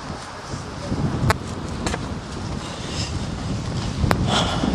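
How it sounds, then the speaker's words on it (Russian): A light breeze blows against a microphone fitted with a windscreen on a street in Anapa. It makes a soft, continuous rumbling hiss with a few brief gust thumps. "Ветерок небольшой дует сейчас"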